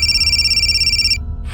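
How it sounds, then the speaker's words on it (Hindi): A phone rings in a home with a steady electronic trill, repeating in quick pulses for just over a second before cutting off, with a soft muffled sound following. "फोन बज रहा है।"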